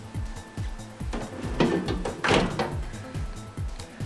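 A toolbox drawer for miscellaneous items in an auto shop slides open with a rolling metallic rumble, a couple of clunks and a louder thump near the end.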